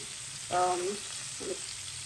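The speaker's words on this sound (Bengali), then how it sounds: "মাছ ভাজা শেষ করে এখন এই যে পেঁয়াজ মরিচ তেলে ভেজে নিচ্ছি" Onion and chillies fry in oil after fish, giving a brief hissing sizzle with a short burst of stirring, close and fairly quiet.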